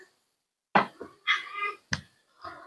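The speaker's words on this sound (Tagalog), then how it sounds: "pasensya na kayo sa pusa kong maingay" A pet cat meows loudly indoors, a few separate yowling cries rising and falling with short gaps between them, close to the microphone and with no talking.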